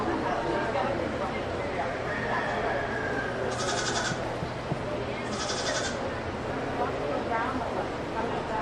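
Dairy goats at a county fair show bleat twice in short calls over a steady murmur of crowd chatter and a judge's amplified voice in a busy barn.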